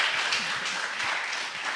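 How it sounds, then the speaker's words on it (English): Audience applause after a guest speaker at a university book tour event, a dense steady wash of many hands clapping that holds at an even level throughout, with no break or fade. "Guys, can we all just give Mam Nonkululeko a round of applause for that?"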